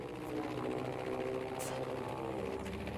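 Propeller warplane in Battlefield V, a steady droning engine hum with sustained tonal whine holding throughout at close range, constant and loud with no talk.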